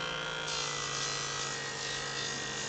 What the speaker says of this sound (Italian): qui stava iniziando a levigare